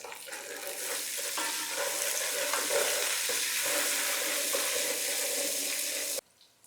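Onion and curry leaves frying in hot oil for a fish curry, a loud continuous sizzle with occasional stirring scrapes, cutting off abruptly near the end.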